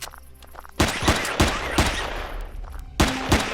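Gunfire in the survival game Empyrion: a rapid run of loud, close shots at an uneven pace, a brief pause, then a few more blasts.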